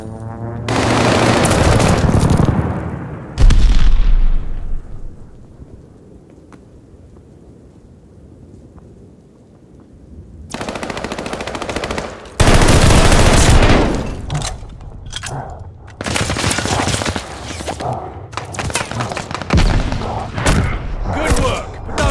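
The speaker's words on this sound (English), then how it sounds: "Your teammate called an airstrike." Heavy airstrike explosions and gunfire from a Call of Duty: Vanguard match: loud, booming blasts at the start, a quieter stretch, then dense repeated impacts and shots with a faint game voice underneath.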